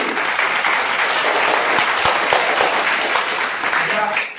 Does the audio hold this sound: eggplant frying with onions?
no